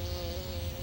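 A bee buzzes in a cartoon, a steady, continuous drone close up that fills the whole moment without any voices.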